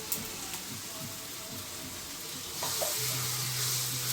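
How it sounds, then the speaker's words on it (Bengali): Spice masala with chilli powder and salt being stir-fried in a pan for a country chicken curry, a soft steady sizzle under light scraping strokes that grows louder toward the end. "এখন একটু ওই মশলাটা ভালো করে কষিয়ে নেব"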